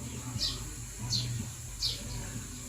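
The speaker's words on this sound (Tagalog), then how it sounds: "Ganyan po yung mga bird. Tuwan-tuwa talaga sila dito sa likod." Three bright bird chirps spaced evenly apart ring out over a constant low background hum, a little distant.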